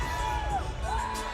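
The crowd at a bodybuilding competition, the Mr Olympia 2015 prejudging, keeps up a continuous roar of cheering with whoops and high shouts. It sounds dense and steady, like a full arena heard from within.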